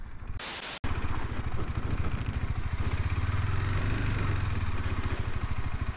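A KTM 390 Adventure single-cylinder motorcycle runs close by with a steady, throbbing low engine note after a sharp burst of noise at the start, holding a fairly even rhythm as the bike rolls toward a stop.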